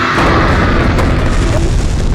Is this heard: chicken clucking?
no